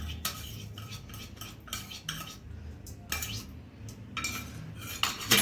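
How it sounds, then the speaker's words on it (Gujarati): A utensil mixes roasted peanuts and urad dal into vegetable upma in a pan, with a series of close metallic clinks and scrapes against the pan and no talk. "બધું મિક્સ કરી દઈશું"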